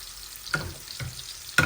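Garlic dropped into a pan of frying sea bream for a Bengali khatta curry, giving low steady sizzling with a few sharper bursts as pieces hit the hot oil, close and fairly quiet with no talk.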